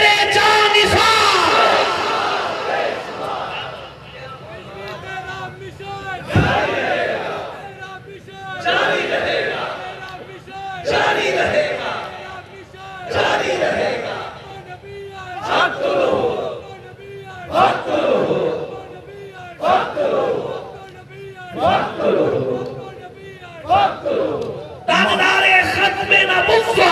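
A large crowd at a religious gathering bellows a slogan in unison, loud surging shouts rising and falling in repeated waves, separated by brief pauses where a lead voice calls out between the responses.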